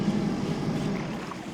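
A slow-moving tour boat on water in Portugal makes a steady, close engine hum with a broad rush of water and wind noise and no break.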